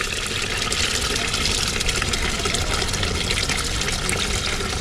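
Water pours steadily and loudly into a cooking pot of village-style country chicken curry outdoors by a stream, a continuous gushing splash from start to finish.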